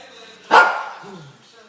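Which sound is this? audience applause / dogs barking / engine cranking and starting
dogs barking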